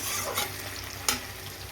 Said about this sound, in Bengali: পেঁয়াজটা লাল করে ভেজে